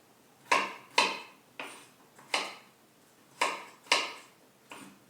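Sharp knife strikes chopping chicken on a cutting board, seven distinct chops at an uneven, unhurried pace, close and fairly loud with short ringing decays and no talk.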